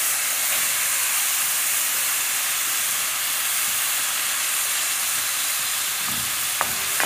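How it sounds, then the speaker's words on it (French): Minced meat sizzles loudly and steadily in a hot pan, a dense unbroken hiss with a faint clink of a utensil near the end. "Donc là, je vais mettre la viande hachée."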